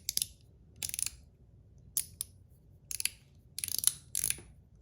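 A blasted zirconium Zirc One Pal mechanical slider fidget toy makes crisp ratcheting clicks up close. They come in quick bursts of several clicks each, separated by short pauses.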